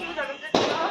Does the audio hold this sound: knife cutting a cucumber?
no